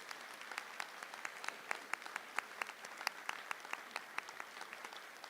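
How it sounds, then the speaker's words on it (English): Applause at a high school awards day as scholarship recipients stand, made up of scattered individual claps that are fairly quiet and steady, continuing for several seconds without voices. "Let's give them a round of applause."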